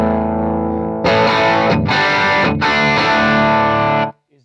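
Electric guitar through an amp with gain around 7 moves from a sustained note into loud, heavily distorted chords with two brief chops, then cuts to silence at the end, played close and alone.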